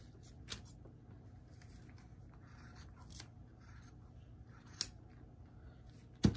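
Scissors cut through a sock in a few quiet snips, with soft fabric rustle between them and sharper clicks toward the end.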